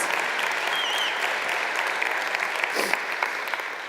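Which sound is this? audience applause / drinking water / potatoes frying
audience applause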